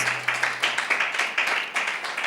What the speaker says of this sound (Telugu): పరిశుద్ధాత్మ దేవుడికి ఒకసారి గట్టిగా చప్పట్లు కొడదాం